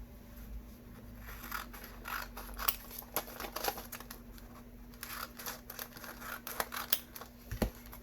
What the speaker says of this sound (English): Let's cut that one open.